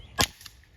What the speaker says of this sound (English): grab your pistol, 2 shots to the head